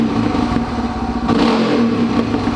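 A Suzuki DR650 supermoto motorcycle engine is revved up from idle, a loud close mechanical roar with a quick rise and fall in pitch and some clatter.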